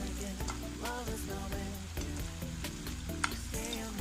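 Mushroom gravy simmers toward a light boil in a roadside-style pan, a steady close bubbling sizzle with soft popping, no voices over it.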